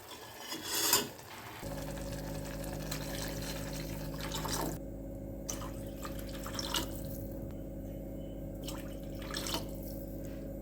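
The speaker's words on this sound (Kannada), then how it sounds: "ಇವಾಗ ನಾನು ನೆಕ್ಸ್ಟು ಬೇಕಾಗುವಷ್ಟು ನೀರನ್ನು ಹಾಕ್ತಾಯಿದ್ದೀನಿ" Water is poured into a pan while cooking rasam, a steady, close pouring and filling sound starting a moment in, with brief drips and no talking.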